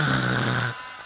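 A voice imitates a husband snoring, giving one long, loud, rasping snore that fades at the end, close and alone.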